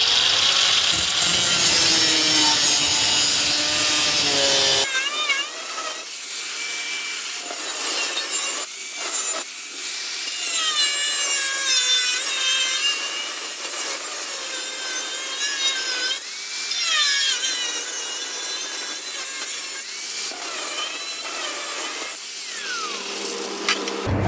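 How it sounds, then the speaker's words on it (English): Angle grinder shaving down metal on the dented deck of a riding lawnmower garden tractor: a loud, high continuous grinding whine, sharper at the start, then steady with wavering pitch as the disc works the metal, running throughout. "let's fire up the angle grinder and shave this down to where we think it'll work"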